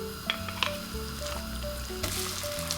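Garlic frying slowly in oil over low heat, a gentle continuous sizzle with a few small pops and soft squishy stirring sounds.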